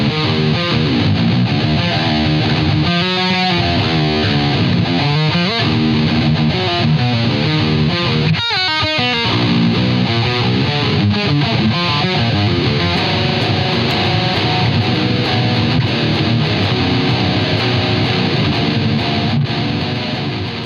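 Electric guitar through a Boss ML-2 Metalcore digital distortion pedal, a tight, modern high-gain tone, played loud and continuous with chugging palm-muted riffs and ringing chords, with no talking over it.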